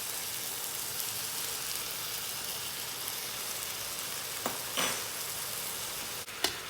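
Beef searing in a hot pan for shaking beef, a loud steady hiss and crackle of frying that fills the whole stretch, with a couple of brief clinks near the end.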